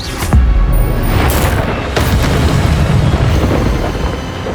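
Incendio fire spell cast in the Hogwarts Legacy video game, a deep booming burst at the start, then crackling, rumbling fire with further whooshing bursts, loud and close.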